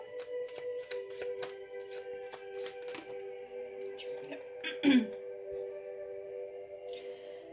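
Tarot cards shuffled by hand make a quiet run of regular crisp riffling taps over a faint steady tonal background, with one louder handling sound near the middle.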